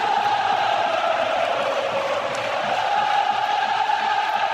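A stadium crowd fills a roof-closed arena before a Real Madrid vs Bayern Munich football match with a steady, dense roar that holds throughout.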